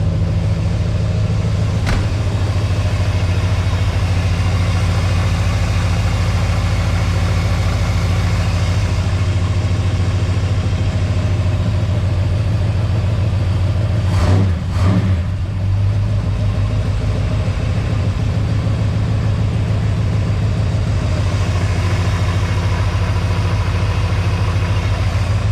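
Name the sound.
1946 Chevrolet pickup 350 small block engine running, rattling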